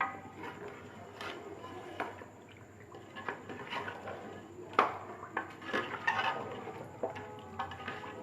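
Beef nihari mixture stirred in a pan with added water, giving soft wet scraping and occasional utensil clicks and knocks, moderately close, with faint background hum.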